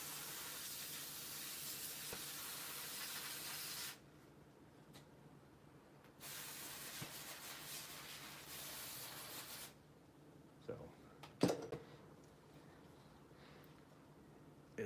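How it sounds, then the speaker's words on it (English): Plastic-safe, electronics-safe cleaner sprayed in two long, steady hissing bursts, close and fairly loud, with quiet gaps and a few small knocks between them. "I will spray the snot out of it."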